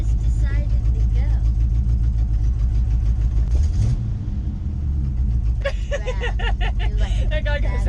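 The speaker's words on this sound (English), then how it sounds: "I bet he thought even more when he heard the 396 rev at him." The 396 engine of a vintage RV rumbles heavily and steadily in the cabin, close and loud, with a swell near the end, while people talk and laugh over it.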